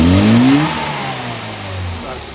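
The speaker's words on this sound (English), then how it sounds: "Big flat spot when you open the throttle." A carburetted engine revving out on the road with a lean flat spot when the throttle opens, loud and close, the pitch rising, then sagging and holding at a rough, uneven drone.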